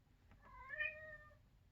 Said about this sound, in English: my cat's in the background and he's being very loud